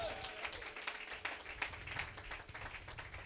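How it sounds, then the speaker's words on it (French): A church congregation claps and cheers during a service, a fairly faint, uneven patter of hands with a few sharper claps, while voices murmur and call out over it. "Donnez-lui une main d'acclamation"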